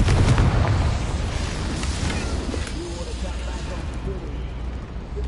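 Confringo explosion spell in Hogwarts Legacy, a heavy booming blast at the start that rumbles and fades into a lingering low roar, loud and close.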